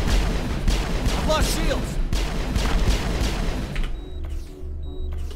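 Gunfire in the video game Mass Effect rattles continuously in a dense, loud barrage, with a player's voice breaking in near the end as the shooting thins out.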